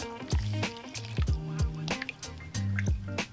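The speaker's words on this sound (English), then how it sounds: "our next step is going to be to add water. So you just pour it in" Water is poured onto paper scraps for homemade papermaking, making close, uneven splashing drips and gurgles in a quick irregular rhythm, some gulps deeper than others, with no talk.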